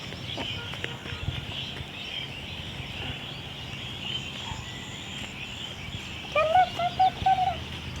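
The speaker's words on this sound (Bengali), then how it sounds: "চলো চলো চলো চলো মুরগি উঠাই চলো" Village chickens cluck as they are rounded up at dusk, with a short burst of calls near the end over a steady outdoor background.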